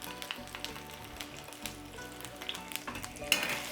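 Chili paste fries in a little oil in a pan, crackling and sizzling continuously at close range with bursts of spitting and stirring.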